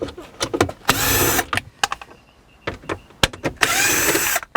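Power tool whirring in short bursts while removing screws from the dashboard of a 2006 Subaru Outback, two longer runs separated by brief clicks and handling noises, close and fairly loud.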